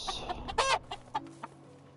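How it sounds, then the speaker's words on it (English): A few short, clipped chicken clucks in quick bursts in the video game Medieval Dynasty, fairly close, with a brief louder squawk partway through. "And we got chickens."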